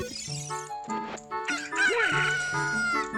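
A rooster crows in a synthesized, game-like style with clucking fowl sounds, over steady background music, from The Legend of Zelda video game.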